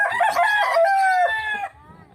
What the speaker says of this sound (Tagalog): Damo kami di manok.